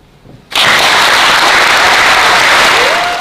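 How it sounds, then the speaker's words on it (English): Loud clapping from a panel-debate audience bursts in suddenly after a moment of near quiet, then holds as a dense, close, roaring wall of applause that fades only slightly toward the end. "sorry about that clapping sound."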